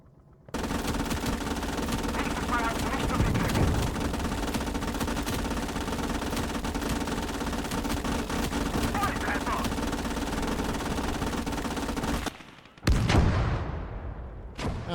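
Panzer I tank firing in Gates of Hell: Ostfront, a dense battle din of rapid machine-gun bursts and engine rumble running continuously, cutting off abruptly before a final loud blast near the end.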